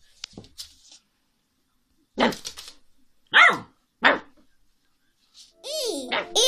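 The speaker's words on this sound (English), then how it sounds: "D for dog." A dog barks in a children's alphabet lesson, a few short sharp barks spaced apart, mixed with a voice and a higher yipping or squeaky call near the end.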